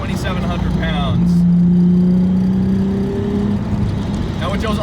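A VR6-swapped VW Mk2 GTI runs at a steady mid-pitched engine drone with a brief rise as it downshifts, heard from inside the car, with someone talking over it at the start and end.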